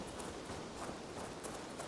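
Horse hooves clip-clop in the video game Assassin's Creed Valhalla, a quiet, steady run of soft beats heard faintly over a low background hiss.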